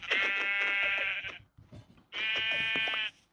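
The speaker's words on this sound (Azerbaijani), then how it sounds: "burada qoyun var. Qoyunumuzu öldürək" A sheep in the Minecraft video game bleats twice, each a loud, drawn-out nasal cry separated by a short pause.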